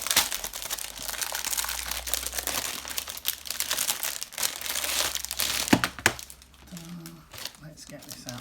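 Plastic packaging around a Dungeons & Dragons dice set and tin crinkles and crackles close by in irregular bursts, with a few sharp snaps near the end and some quiet handling after.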